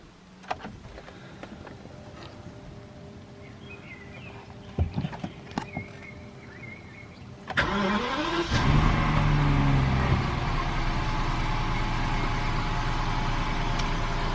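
A BMW engine turns over and catches about halfway through after some quiet clicks and handling noises, then settles into a steady, loud idle for the rest of the time.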